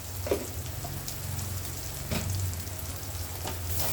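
Spices for an egg and potato curry sizzle and fry in a pan while being stirred, a soft continuous crackle with occasional scraping strokes, close and fairly quiet.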